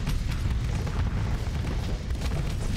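Torpedo explosions in the space combat game Starsector, a continuous heavy low-end rumble of overlapping booms with no distinct individual blasts standing out.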